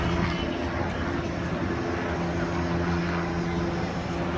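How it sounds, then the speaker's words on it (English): A steady, loud engine drone of helicopters rumbles continuously overhead at an outdoor concert, a constant mechanical roar with no pauses. "Yeah, dude, they got choppers."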